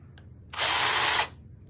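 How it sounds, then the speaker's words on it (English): A chainsaw sound effect bursts in as one loud, rough mechanical buzz lasting under a second, standing alone against a quiet background with no talking. "Chainsaw."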